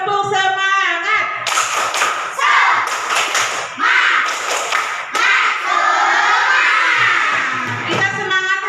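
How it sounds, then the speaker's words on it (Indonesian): A school class claps out the rhythmic 'tepuk semangat' pattern in bursts of sharp, loud claps with shouting children, led by a teacher whose voice can be heard in between. "coba tepuk semangat"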